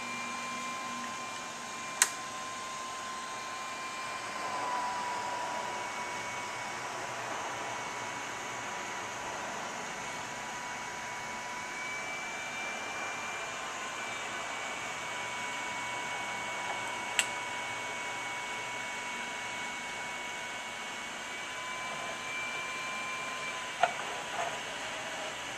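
A hot air rework tool heats the top of a graphics card BGA chip, a steady soft airflow hiss throughout with a few faint ticks.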